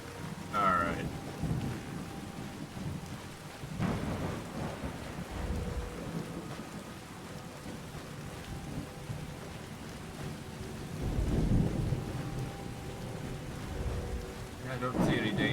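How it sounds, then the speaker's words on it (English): A thunderstorm in Skyrim brings steady rain over low rumbling thunder, with swells of heavier rumble, and a faint voice now and then underneath. "Not a fan of the lightning, I must admit, but hey, it's interestingly thematic"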